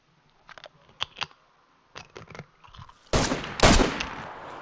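Gunfire in DayZ sounds as sharp, separate shots, a few crisp cracks early on, then louder, heavier blasts near the end that ring out over the quiet between them.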